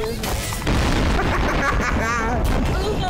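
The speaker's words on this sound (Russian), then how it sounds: "А, бомба! Еще, взрывайтесь!" A loud bomb explosion in Garry's Mod booms and rumbles, followed by crackling blasts and debris, with a voice briefly audible amid the noise.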